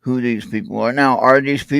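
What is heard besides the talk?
None of the usual background noises is heard.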